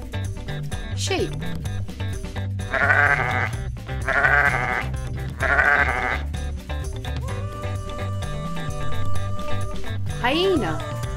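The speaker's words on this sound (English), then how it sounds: "Sheep." Sheep bleat in a series of loud, wavering cries, three evenly spaced calls in the middle and a rising one near the end, over a steady background with a voice speaking briefly.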